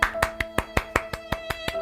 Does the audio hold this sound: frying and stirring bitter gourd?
no